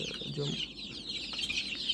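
Young desi chickens in a rearing shed cluck and peep softly in a flock, a faint, busy chatter of many birds with no single call standing out.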